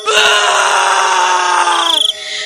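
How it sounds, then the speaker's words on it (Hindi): A man in a horror story lets out a long, loud, strained scream that holds steady for about two seconds before breaking into a shaky, pulsing cry, close and alone. "उसकी चीख निकल जाती है"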